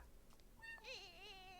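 A cat gives a drawn-out, wavering meow, preceded by a couple of faint short chirps, close and clear over a low background hum.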